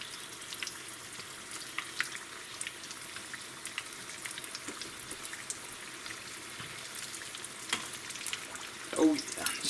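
Raccoon egg rolls fry in a pan with a faint, crackling sizzle and scattered pops, plus a few soft clatters toward the end.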